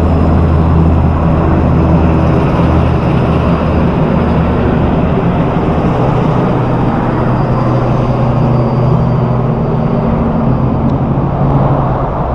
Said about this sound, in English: Helicopter's taken off and run next door to the heli tours on the International Drive.